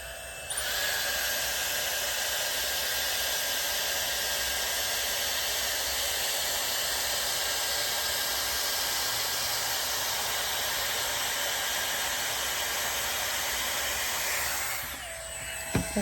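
A hair dryer blows hot air through hair for a blowout, turned down to a lower heat setting for a final pass; a loud, steady broadband whoosh runs nearly unbroken, then cuts off at the end.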